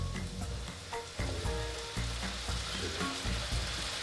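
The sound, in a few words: apple cider vinegar added to a hot pan for beef birria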